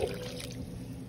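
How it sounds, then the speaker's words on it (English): Water pours steadily into a pot of potatoes, a brief continuous splashing trickle heard close up with no talking. "we're going to add just enough water to cover the potatoes"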